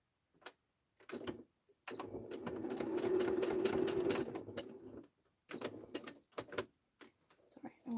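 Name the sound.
sewing machine stitching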